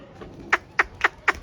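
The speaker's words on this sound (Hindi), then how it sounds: "ये है हमारे शादियों के कबूतर" Wedding pigeons take flight from a rooftop, giving four quick, sharp wing flutters evenly spaced over a faint background.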